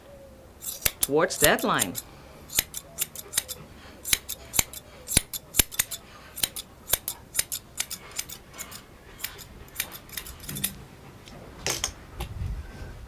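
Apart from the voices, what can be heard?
grooming scissors trimming a dog's coat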